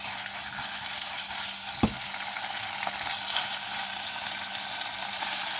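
Beef for bo bun stir-frying in a pan gives a continuous even sizzle, with an occasional faint knock of a utensil as it is stirred.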